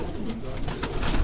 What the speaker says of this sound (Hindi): ये सारी परवाजी कबूतर है